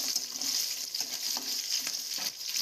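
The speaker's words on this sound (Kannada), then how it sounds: "ಎರಡನ್ನೂ ಸೇರಿಸಿ ಚೆನ್ನಾಗಿ ಫ್ರೈ ಮಾಡ್ಕೋಬೇಕು." Okra curry ingredients fry in a hot pan with a steady bright sizzle, stirred now and then with soft scraping strokes, close and continuous without any talking.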